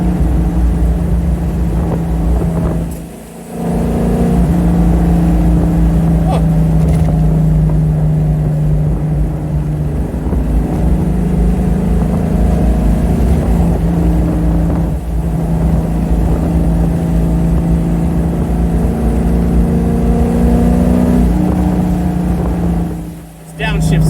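A car engine drones steadily while driving, its tone shifting as gears change during a downshift, with two brief dips in level between longer sustained stretches; loud and close with no other sounds on top.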